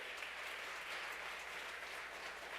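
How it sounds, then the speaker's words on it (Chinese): Church congregation applauding after a prayer during a Sunday worship service, steady dense clapping filling the whole stretch without a break. "我们再次热烈掌声"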